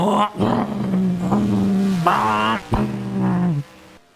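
Race cars in NASCAR Racing 2003 at Infineon Raceway rev and bark through a road course, the loud engine tone rising and dropping with sharp shifts and short cuts near the end.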